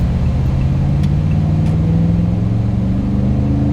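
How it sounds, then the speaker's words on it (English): A Toyota Tundra pickup truck's engine and exhaust rumble steadily with a deep, throaty drone that rises slightly in pitch, close and loud, with no talking. "You guys might hear that awesome exhaust."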